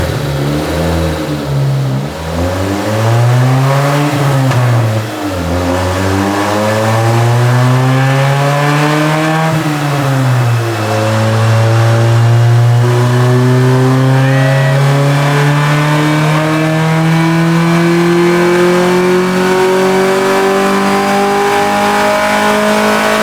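Turbocharged 1993 Honda Del Sol engine pulling on a dyno, loud and close, revving up and dipping twice before a long sustained climb in pitch as it winds out, with no talking.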